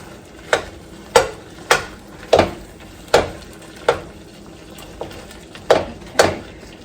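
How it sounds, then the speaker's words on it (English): Udon noodles and chicken being broken up and mixed in a wok with a spoon, about a dozen sharp scraping and clacking strokes at an irregular rhythm over a soft background sizzle. "I am going to take them and just kind of mix everything in with this chicken."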